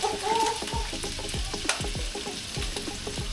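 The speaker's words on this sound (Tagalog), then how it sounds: "Prito muna ang ating gulay." Vegetables frying in a pan, a steady close sizzle with stirring scrapes and clinks of a utensil, moderately loud and without talk.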